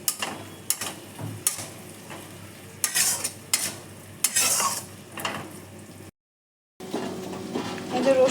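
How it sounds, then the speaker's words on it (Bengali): Spice masala with turmeric and salt frying in a pan while being stirred, repeated scraping spoon strokes over a steady sizzle, close, with a brief silent gap before the frying resumes. "এখন মশলাটা ভালো করে কষিয়ে নেব।"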